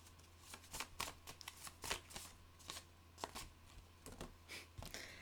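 Tarot cards are shuffled with quiet, quick riffling flicks and soft taps, irregular bursts close by in a hushed room.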